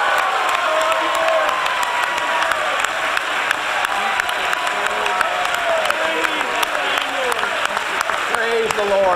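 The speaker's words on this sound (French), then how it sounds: "Donnez-lui une main d'applaudissement." A church congregation at a French and English service claps loudly and steadily for a guest, mixed with cheers, whoops and voices calling out across the room throughout.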